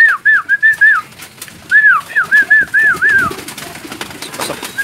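Pigeons coo loudly and close by in two runs of rhythmic, repeated calls, followed by softer rustling and shuffling.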